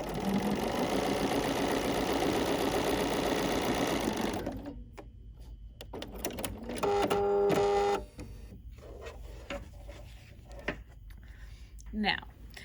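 A domestic sewing machine stitches quilt pieces for a Let's Fly quilt, a fast steady mechanical whir at close range that stops, then returns in short bursts with light clicks and handling noise.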